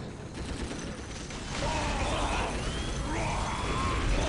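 Heavy gunfire in the Dawn of War strategy game, a continuous distant barrage of mixed shots and mechanical clatter filling the whole stretch, growing slightly louder midway, with no talk.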